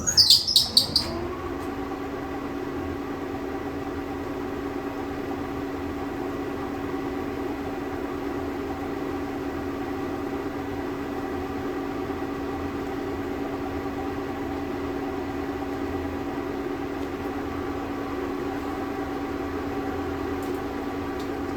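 A metal lathe starts with a brief rattling clatter, then settles into a steady, even running hum with a constant whine, continuing unchanged and moderately loud with no talking.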